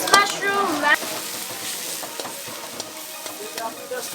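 Mushrooms and vegetables stir-fried on a farm in the Thai jungle: a steady sizzle with scattered spatula clicks and scrapes, a brief voice near the start.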